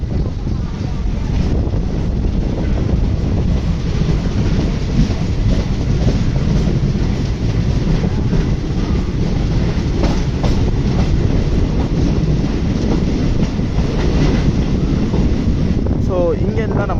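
A Chennai local train rumbles steadily along the rails nearby, a dense continuous roar with faint rhythmic clatter and wind buffeting throughout.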